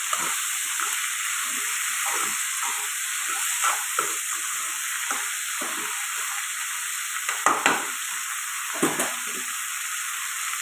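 Okra (bhindi) frying with salt in a pan, a constant loud hissing sizzle that fills the whole stretch, with soft occasional stirring scrapes underneath.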